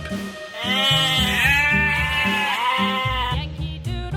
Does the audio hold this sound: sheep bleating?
yes